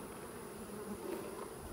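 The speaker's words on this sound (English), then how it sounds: "there are going to be house bees in here that kind of never go back down" Honey bees buzz inside a beehive, a dense, continuous hum, close and steady throughout the short stretch.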